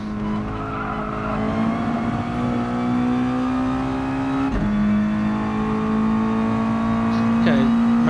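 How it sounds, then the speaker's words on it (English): A Mazda touring race car at Interlagos in a racing game, engine droning steadily through the gears with one shift midway, tyres squealing under load, loud and continuous. "So although we've got a lot of tyre squeal there, it's not actually doing a lot of damage."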